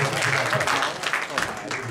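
An audience at a pogácsa baking and aspic cooking contest in Bogács applauds an award winner. Steady clapping fills the room while a voice talks over it.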